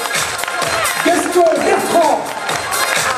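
An audience at a sports awards night applauds for a cycling club, a steady wash of clapping and crowd noise underneath an announcer speaking over a microphone.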